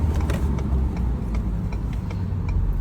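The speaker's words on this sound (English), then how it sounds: "There goes the exhaust brake, working good." Stock 2016 Ford F250 Platinum diesel pickup engaging its exhaust brake while driving, a steady low engine drone and rumble with faint ticking over it throughout.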